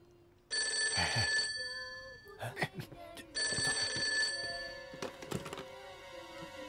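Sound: telephone ringing

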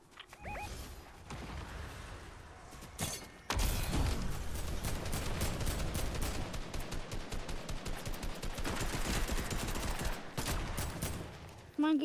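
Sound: gunfire in Fortnite, a video game

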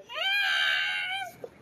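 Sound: cat meowing as if in distress

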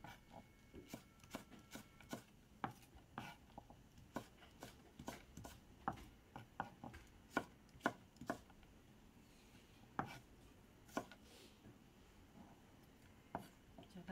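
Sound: knife chopping onion into 0.5 cm pieces

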